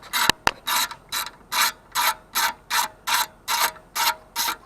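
Ratchet wrench loosening an 8 mm bolt on a Toro Recycler lawn mower: two sharp clicks, then about ten even, rhythmic ratcheting bursts, close and clear, with no talk.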